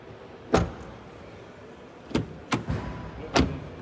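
Door of a 2026 Volkswagen T-Roc R-Line closing, several solid thuds and clunks spread over a few seconds against a steady background hum.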